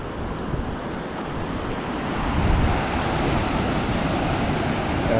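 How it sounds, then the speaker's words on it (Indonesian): Ocean surf washing ashore at Kuta beach after rain, a continuous broad roar of waves with wind buffeting the microphone and a surge swelling partway through, no voices. "Airnya mulai menepi, air asinnya mulai menepi guys"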